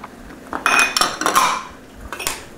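Homemade BBQ sauce is stirred in a metal pot, and a utensil clanks and scrapes against the sides in a quick run of knocks before the sound trails off.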